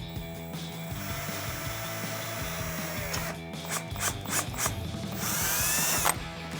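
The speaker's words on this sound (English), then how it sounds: "And I'm going to take my drill bit and drill my hole." A power drill with a 1/8 inch bit bores a pilot hole during a Jeep Gladiator soft truck cap install, running with a steady whine that rises in strain near the end, close and loud.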